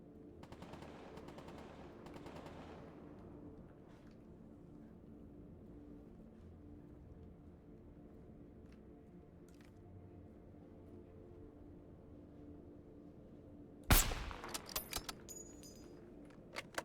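A sudden loud burst of gunfire from a sniper in Stalker G.A.M.M.A. breaks a long quiet stretch, with sharp cracks and a few trailing shots and echoes.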